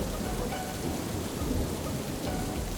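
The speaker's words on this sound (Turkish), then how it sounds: "Şakır şakır yağmur da yağabilirdi." Heavy rain pours steadily with a deep rumble of thunder, a dense continuous wash of sound filling the whole stretch without voices.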